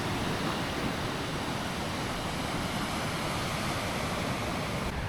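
Ocean waves wash steadily onto a shaded beach in Costa Rica, a continuous broadband surf roar with no distinct individual breakers, fairly close and alone without voices.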